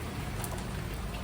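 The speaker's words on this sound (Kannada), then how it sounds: "ಫುಲ್ ಮಳೆ" Heavy rain in Goa pours down in a steady, even hiss of dense droplets, a soft continuous wash with no voices over it.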